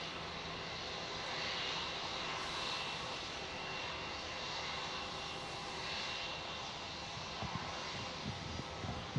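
A Virgin Australia jet rolls for takeoff on runway 16 at Melbourne Airport, its engines a steady, distant broadband roar that holds through the whole stretch.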